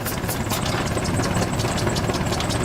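Massive 22.7-liter engine on a 12-ton antique tractor idles deep and steady, a continuous low rumble with a rapid even knocking pulse, close and alone.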